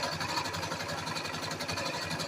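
A sewing machine stitches jersey fabric with a jersey needle and satin foot, giving a fast, even mechanical whir and rhythmic rattle that runs continuously at close range.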